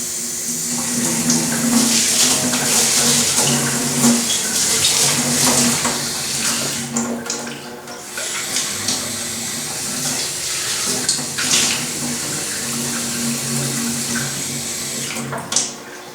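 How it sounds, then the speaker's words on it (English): Tap water runs steadily to rinse a ceramic vessel before glazing, a loud continuous splashing flow with small shifts as the piece moves under the stream, no talk. "So I'm just going to do a quick rinse."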